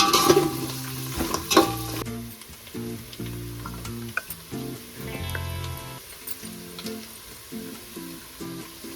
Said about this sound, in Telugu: ఉల్లిగడ్డలు మంచి గోలాలి. ఎంత గోలాలంటే బ్రౌనిష్, బిర్యానీకి వేస్తారు ఏడు బ్రౌనిష్, సేమ్ అట్లా గోలాలి.